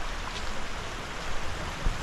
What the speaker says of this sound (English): not much you can complain about when you have a creek right there.